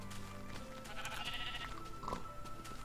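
Sheep bleat in the Minecraft video game, a few soft blocky cries close by over a steady, quiet game background.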